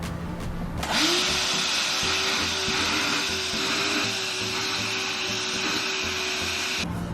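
A Ryobi ONE+ cordless 6 gallon wet/dry vacuum starts up after a second and runs with a loud, steady whining roar, then cuts off near the end.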